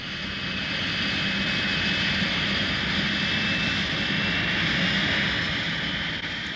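A Trident jet airliner airborne on a 1970 test flight, heard as a steady, loud engine roar and hiss that holds evenly throughout without talk.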